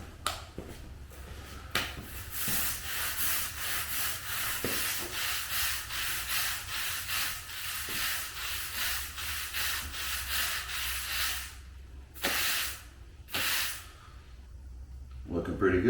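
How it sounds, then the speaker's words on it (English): Dried Chomp Pull It Out and Goof Off concrete cleaner powder is scraped off a concrete floor in repeated rasping strokes, close and steady, with a few louder scrapes near the end. "Both the Chomp Pull It Out and the Goof Off concrete cleaner dry to a fine powder once you start scraping it up."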